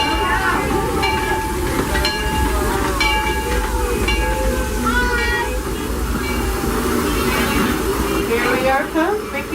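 Disneyland Railroad train riding at night behind steam locomotive Ernest S. Marsh, with a steady low rumble and rolling rail noise throughout, scattered squeals and clanks, and voices talking over it.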